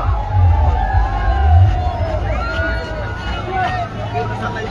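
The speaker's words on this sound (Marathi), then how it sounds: "रस्त्याच्या दुतर्फा मराठी बांधवांची प्रचंड गर्दी झालेली आहे" Huge crowd lining both sides of the road at Manoj Jarange Patil's rally in Manchar town: a loud, continuous roar of voices and chatter with cheering and whoops, steady throughout.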